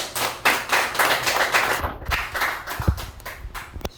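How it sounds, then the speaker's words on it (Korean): Welcoming applause from a small audience at an open-school lecture event, several people clapping close by in uneven bursts mixed with taps and thumps of movement, loud and fairly dry. "우선 큰 박수로 환영해 주시면"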